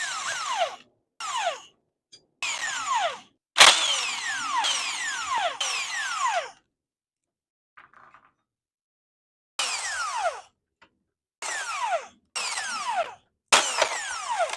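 A power tool drives out screws from the mount plates of a disassembled Permobil M3 power wheelchair, in repeated short bursts of whirring with rising and falling pitch, separated by pauses, close and loud, with no talking.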